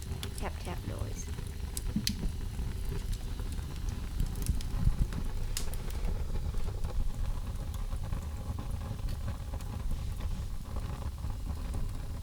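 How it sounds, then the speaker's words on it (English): A wood fire in a stove crackles and ticks with light tapping pops over a low steady roar of flames, close and moderately quiet, continuing throughout. "You can hear the flames kind of licking the wood. That's that kind of tap-tap noise."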